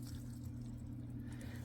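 Water flowing steadily through a fish tank siphon gravel vacuum, a constant low rushing gurgle with no pauses, heard alone and close.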